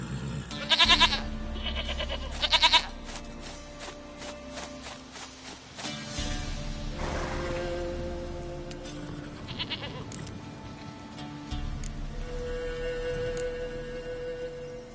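A goat bleats twice in close succession amid the ambient soundscape of The Witcher 3: Wild Hunt, with further quieter bleats and game background noise following.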